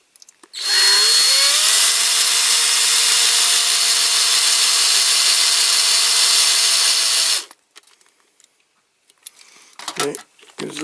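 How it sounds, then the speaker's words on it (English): A power drill whines up to speed and runs at a loud, steady high pitch for several seconds, then stops, followed by faint handling clatter during the restoration of a Corgi toy Mercedes-Benz Unimog 406. "tighten the drill bit."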